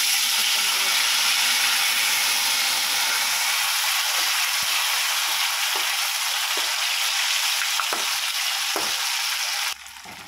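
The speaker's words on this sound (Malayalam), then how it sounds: "നമ്മൾ ചിക്കൻ ഫുള്ള് ഞാൻ ഇട്ട് കൊടുത്തിട്ടുണ്ട്. നല്ലതുപോലെ മുരിഞ്ഞ് വരണം." Chicken pieces frying in hot oil for a Kerala ghee rice dish give a loud, steady broadband sizzle that holds for about ten seconds, with a few soft clicks of stirring before the sizzle drops slightly at the end.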